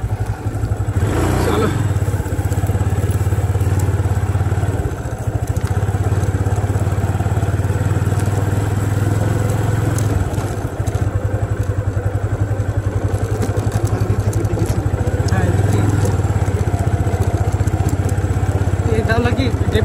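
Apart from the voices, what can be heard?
motorcycle riding through a field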